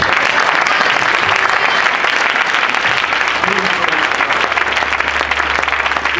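A church congregation at a francophone conference bursts into loud, sustained applause and cheering, dense continuous clapping filling the hall for several seconds without pause.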